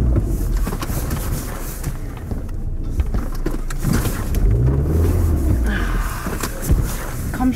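An Audi car stuck in snow, its engine droning steadily and revving throughout with a whirring tone near the end, heard from inside the car with no talk.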